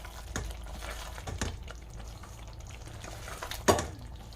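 Chicken do pyaza masala is stirred and cooked in a pan, with a soft sizzle under irregular scraping stir strokes and a sharper clink of the utensil near the end.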